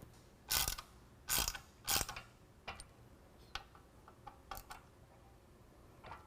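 A hand ratchet snugs bolts on a Rugged Ridge HD rear bumper with swing-out tire carrier on a Jeep JL. It gives three loud early bursts of clicking, then lighter, irregular ratchet ticks, close up and without talk.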